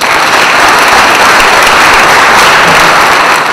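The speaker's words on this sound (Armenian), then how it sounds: "Արթուր Նալբանդյանի ծափահարություններով ընդհատվող խոսքին" Loud, dense crowd applause after Artur Nalbandyan's speech at an Armenian public gathering in Vanadzor, sustained many-handed clapping without pause.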